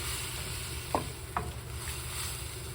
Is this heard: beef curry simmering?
yes